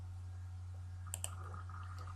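Two quick, faint computer mouse clicks close together, clicking restart after a Red Hat Enterprise Linux installation in a virtual machine, over a steady low electrical hum.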